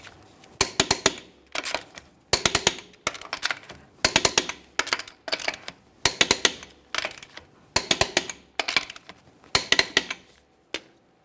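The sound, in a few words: torquing Ford F-150 wheel lug nuts to 150 foot-pounds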